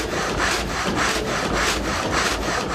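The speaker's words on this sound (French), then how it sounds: "Ça s'appelle un haut fer. Et ça fonctionne avec l'énergie hydraulique." Water-powered vertical frame saw, a haut fer with an iron blade moving up and down, cutting wood in the Lançoir sawmill. The close, loud rasping strokes repeat steadily about twice a second without pause.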